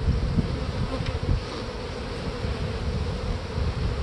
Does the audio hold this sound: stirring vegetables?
no